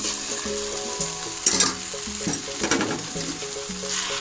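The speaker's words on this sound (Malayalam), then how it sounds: "ഇതെല്ലാ ഭാഗത്തും നമുക്കൊന്ന് മിക്സ് ആക്കി കൊടുക്കാം" Chicken and noodles for cutlets sizzle in a pan as a utensil scrapes and stirs them, with bursts of louder clatter, set against a steady background tone.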